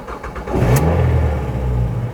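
A car bought as a non-runner, with a freshly changed battery, has its engine cranked and catching, then rising into a loud, steady running rumble close by.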